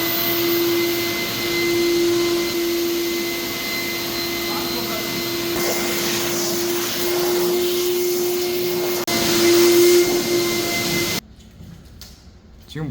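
Wet-dry vacuum cleaner running, a steady loud motor whine with airy suction rush held for about eleven seconds, briefly surging before cutting off abruptly into near quiet.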